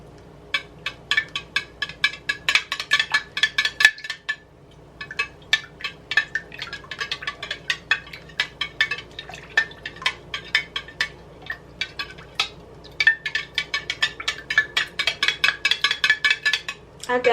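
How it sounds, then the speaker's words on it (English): Spoon stirring cream of mushroom soup diluted with water in a bowl, a quick run of close, light clinks and scrapes against the dish, repeating in steady bursts with brief pauses. "And you're going to stir it up."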